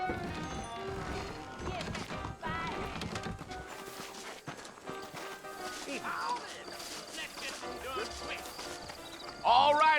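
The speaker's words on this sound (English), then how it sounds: "I got the horses saddled up and ready out front." Horses clip-clop along in the Western video game Red Dead Redemption, their hooves tapping irregularly amid game music and ambience, with a voice speaking over parts of the scene.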